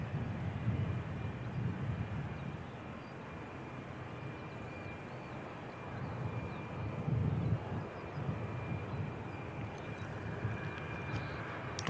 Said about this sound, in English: Extremely busy number of aircraft in the sky today